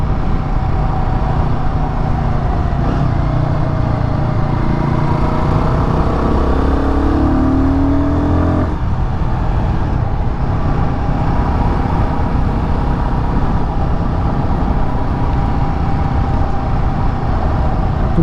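Royal Enfield Guerrilla 450 motorcycle running at a steady, loud drone throughout, with a rising engine tone as the throttle opens mid-ride, then settling back to a constant riding roar and wind.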